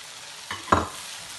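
A spoon stirs spices into softened tomato masala for a chicken and potato curry, two quick scraping strokes with a brief sizzle, close and short, with no talking.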